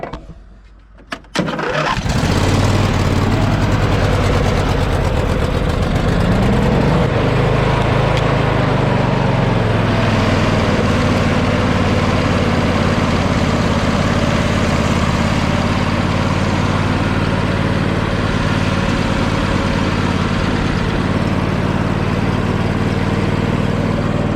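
A John Deere L120 lawn tractor's small engine cranks and catches after a second or so, then runs loud and steady up close for the rest of the time.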